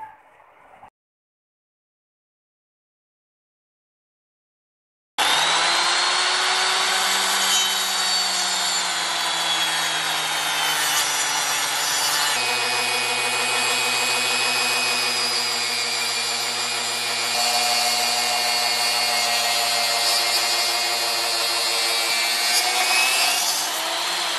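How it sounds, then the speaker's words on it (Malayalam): Wooden planks for a chicken cage are being cut, heard after several seconds of silence as a loud, continuous, close whining cut with slight shifts in pitch as the blade works through the wood. "ഇപ്പോൾ മാർക്ക് ചെയ്തിട്ടുള്ള എല്ലാ പലകകളും ഇതുപോലെ വളരെ കറക്റ്റായി കട്ട്"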